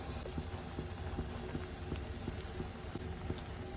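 Jackfruit pieces simmer in a pot of water with turmeric and salt, giving a steady, low bubbling hiss that runs evenly throughout, with no voices.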